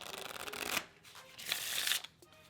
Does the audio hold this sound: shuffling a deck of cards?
yes